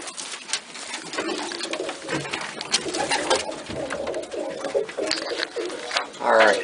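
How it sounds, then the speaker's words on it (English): Pigeon cocks coo in a breeding loft, soft repeated throaty rolls spread across the stretch amid other bird chatter and rustling, with a louder burst near the end. "right off the bat I can hear a cock cooing down here"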